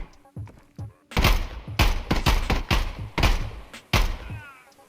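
Gunfire from the shooter game Contractors Showdown: Exfil Zone: a burst of about seven loud, sharp shots in uneven rhythm, each with a quick decaying tail, after a few quieter thumps at the start.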